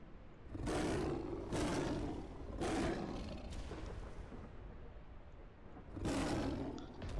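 A Manticore creature in the video game ARK lets out repeated loud, deep roars, with a few sustained bursts spaced across the stretch and lower rumbling in between, with no talking.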